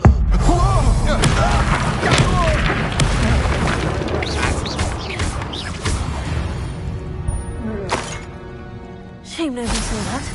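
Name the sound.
Confringo explosion spell in a Hogwarts video game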